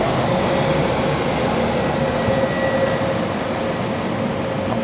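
A 16332 Express train pulling out of Pune station onto the main line, heard from inside a second-class AC coach as a steady loud rumble and hum with no pauses.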